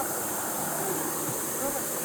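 Natural mountain stream water on the Shrikhand Mahadev trek toward Barati Nala, a dense, continuous rushing wash that stays steady and loud throughout, filling the whole short stretch without breaks.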